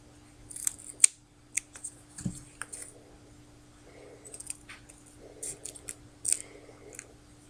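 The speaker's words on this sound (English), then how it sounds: "And then just cut off the excess." Scissors snip off the excess of a foam sheet covered in duck tape, a series of small, close, crisp cuts with short pauses between them, no talking.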